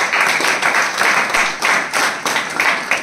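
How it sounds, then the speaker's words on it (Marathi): An audience claps for mothers receiving an award at an ashram ceremony, loud steady hand clapping in slightly uneven pulses running throughout. "त्यांच्यासाठी आपण टाळ्या वाजवून"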